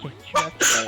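A sharp, close sneeze bursts out in two quick gasping blasts right after a brief spoken question.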